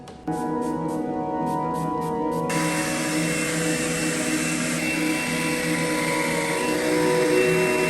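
A hair dryer switches on with a quick click and blows steadily, a constant close whooshing hum with a faint whine that holds unchanged for several seconds.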